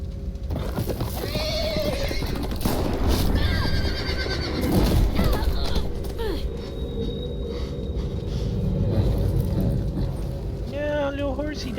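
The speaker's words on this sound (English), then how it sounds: "They killed the horsey." Horses neigh and whinny repeatedly in a burning ranch scene from The Walking Dead video game, with hoof clatter and game sounds underneath and a person talking over it.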